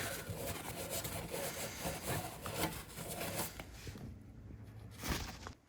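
A cloth rubs white wax back on a cast iron furniture piece, giving a continuous, close, rough scrubbing sound in quick back-and-forth strokes.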